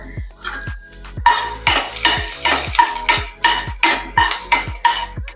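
A spoon clanks rhythmically against a pan while a tempering of cumin, chopped green chilli and a pinch of asafoetida is stirred on a gas flame: about a dozen bright metallic strikes, close and fairly loud, over a faint sizzle.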